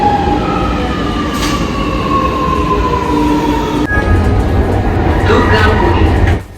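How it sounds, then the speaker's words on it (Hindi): Lucknow metro train arriving at an underground station, a loud continuous rumble with whining, sliding tonal squeals from the wheels and brakes, ending abruptly with a sharp drop as the noise cuts off. "ये मेट्रो।"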